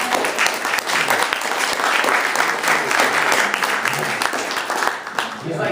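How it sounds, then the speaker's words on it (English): An audience gives a big round of applause, loud sustained clapping filling the room with scattered voices underneath before it begins to taper off at the end. "How about a big round of applause"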